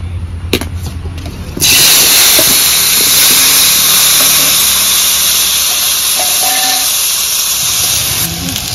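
Pieces of taro (mankochu) drop into hot oil and set off a sudden loud, dense sizzle that stays strong and steady, with faint clicks underneath.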